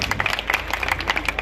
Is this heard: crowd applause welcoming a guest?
yes